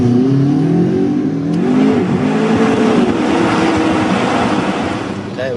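A McLaren sports car engine revs loudly nearby, its pitch sweeping up and down through several strong pulls before easing off, with a steady roar throughout.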